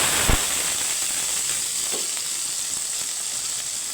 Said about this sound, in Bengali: এখানে আমার তেলটা গরম হয়ে গেছে দিয়ে দিব ফোড়নে এখানে মৌরি দিয়ে দিলাম